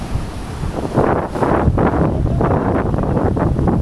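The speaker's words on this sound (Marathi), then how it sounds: "लाटा बघा" Strong wind buffets the microphone as sea waves surge and wash in along the Konkan coast during a fishing outing, a loud, continuous rush with swelling crashes.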